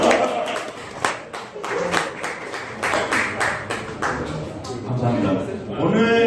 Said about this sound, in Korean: 박수 쳐주시면